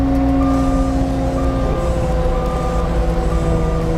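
A CAT box blade machine drives along with a steady, loud engine drone and a low mechanical rumble, continuous and close throughout.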